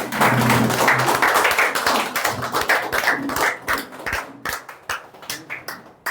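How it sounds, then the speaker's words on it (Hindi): An audience stands and claps to welcome an incoming Triple Diamond IBO at a business seminar, dense loud applause that thins into scattered separate claps toward the end. "जबरदस्त खड़े होकर ताली बजाइए और स्वागत करिए।"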